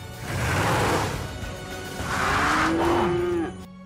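Cows low in a PAW Patrol cartoon, two long loud moos in succession, the second sliding downward in pitch, with no talk over them.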